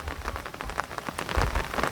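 Steady rain falls on a surface during the monsoon at a Konkan farm, a dense continuous patter of drops filling the clip close by, with no voices.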